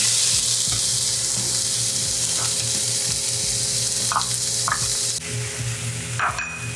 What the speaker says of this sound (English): So I'm just gonna add some olive oil. I'm gonna get the onions in there.